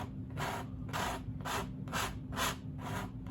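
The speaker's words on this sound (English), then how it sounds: "I'm going to scrape." A palette knife scrapes across oil paint on canvas during a landscape painting, making six even, rhythmic rasping strokes, each a scratchy swipe followed by a short pause. The sound is close and steady, with a low hum underneath and no talking.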